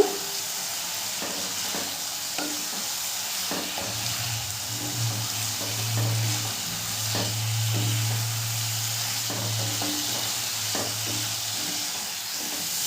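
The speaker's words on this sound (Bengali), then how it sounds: "ভেজে রাখা পটলগুলো দিয়েও খুব ভালো করে কষিয়ে নেব।" Potatoes and fried pointed gourd are sautéed in a pan, with a continuous moderate sizzle and repeated spatula scrapes and knocks at an even, stirring rhythm.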